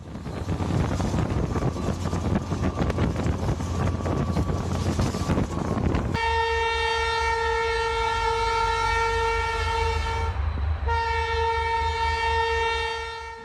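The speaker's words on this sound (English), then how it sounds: "Wild horses get disturbed by a passing train." A train passes close by, first as a loud rumbling, rushing roar with wind noise, then a long sustained horn blast that breaks off briefly and sounds again.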